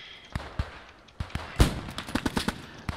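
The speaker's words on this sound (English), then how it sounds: "We're getting shot!" Scattered gunshots from a video game firefight ring out in irregular bursts, some sharp and close, others lighter, with one heavy blast near the middle.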